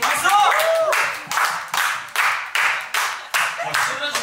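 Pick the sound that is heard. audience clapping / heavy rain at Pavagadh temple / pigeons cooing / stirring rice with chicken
audience clapping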